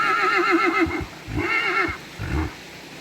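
A horse in the Carpathian mountains neighs loudly up close in a long shaking whinny, followed by two shorter snorting whinnies with brief pauses between them.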